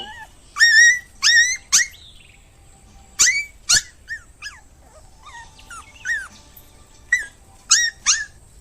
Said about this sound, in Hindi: कुत्ते और गायें रोड पर बैठे हैं।